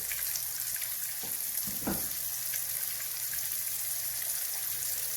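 Fish fries in a pan with a steady, loud hiss of sizzling oil that never lets up. A couple of brief thumps or scrapes come near the middle, and no one speaks.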